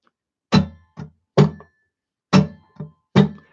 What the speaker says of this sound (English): Down, miss, down. Now that note in the middle is very ghostly.